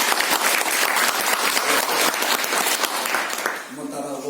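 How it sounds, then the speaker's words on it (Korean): A church congregation at a Sunday worship service claps together in a full, steady round of applause that fades near the end as a voice begins to speak. "다 같이 한번 박수 보내주시죠"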